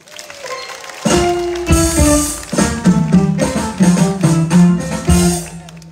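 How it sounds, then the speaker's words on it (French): Audience applause at a Ballet Tchè Kréyole folk ballet show at the Vert-Pré patronal festival, a loud burst of clapping that swells after a quiet second and keeps going with rhythmic taps and some music-like tones mixed in. "Mais je vous prie d'applaudir bien fort."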